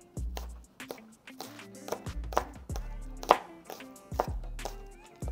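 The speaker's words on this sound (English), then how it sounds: "And then for the green parts, you're gonna cut them into like 1-inch sections." A knife chops green onion tops into short sections on a cutting board, a series of close, crisp thuds in an irregular rhythm, clear and alone without talking.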